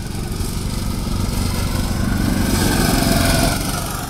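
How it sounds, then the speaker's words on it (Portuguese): A Baja prototype off-road car powered by a 10 HP stationary water-pump engine runs loud and close, a steady buzzing drone that swells slightly toward the middle before easing. "O motor é de 10 HP e ele é um motor estacionário."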